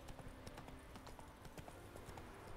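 Roach, a horse in the Witcher 3 video game, gallops with a steady run of hoofbeat clip-clops, moderately loud and continuous, with no talking over them.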